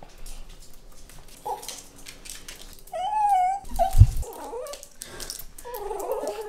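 A dog cries and whimpers close up, with high wavering whines, a louder whimpering burst in the middle and breathy vocal sounds around it, alone without talk.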